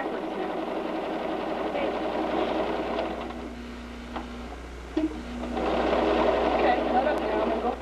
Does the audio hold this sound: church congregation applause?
no